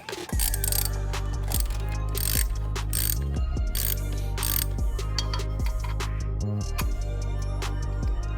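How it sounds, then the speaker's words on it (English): Ratchet wrench running the top 16mm nut and four E12 Torx bolts onto the motor mount bracket of a BMW F30 328i, a loud, close, steady run of rapid clicks lasting the whole stretch, with no talking. "Moving on to the top 16mm nut and 4 E12s that hold in the bracket."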